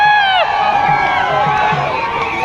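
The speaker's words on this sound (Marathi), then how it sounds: "अफाट गर्दी झालेली आहे." A huge crowd gathers at a bullock cart race, a dense, continuous roar of many voices with shouts and calls rising over it, loud and close throughout.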